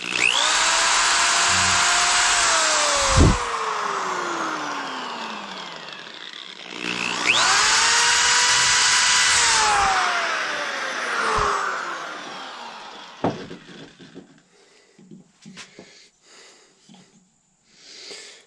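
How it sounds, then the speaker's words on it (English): A power drill whirs loudly in two long runs while drilling holes in a powder horn, pitch sagging as it bites into the material, followed by scattered clatter and handling noises. "And then I'm going to drill the hole."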